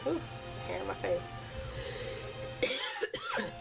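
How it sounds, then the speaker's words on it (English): A woman coughs a few times in quick bursts, close and fairly quiet, during a make-up session. "And I'm coughing."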